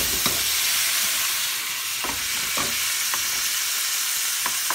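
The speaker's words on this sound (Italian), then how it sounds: "Aggiungiamo con un cucchiaio di vino." Sausage sizzles in a pan as wine is splashed in, producing a loud, steady hiss with a few sharp ticks and pops scattered through it, close and without any talk.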